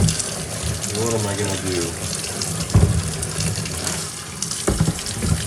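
Hot water from a tap runs steadily into a small sink, rinsing through the O2 sensor port of a clogged catalytic converter from an Audi or VW, with someone talking over the gushing flow and occasional clunks.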